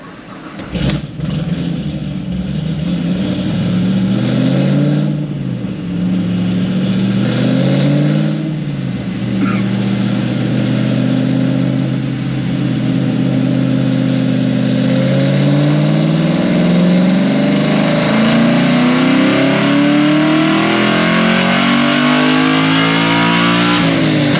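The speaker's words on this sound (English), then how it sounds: "I'm just making another pull. Maybe I'll rev it a little higher." LS7 V8 in a Z28 Camaro with 3.73 gears roars through a loud pull, the engine note climbing steadily in pitch, easing briefly at shifts, then climbing again, sustained and close.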